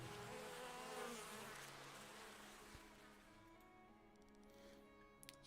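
Bees buzzing in the video game Farthest Frontier, a continuous dense insect drone that slowly fades and thins, with a few faint clicks near the end and no talking.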